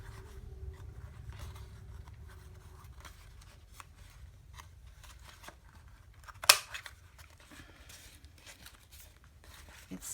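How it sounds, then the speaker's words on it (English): A corner rounder punch snaps through a paper corner once near the middle, giving a single crisp click over a faint, steady room hum with no voices. "And I think I'll round the corners"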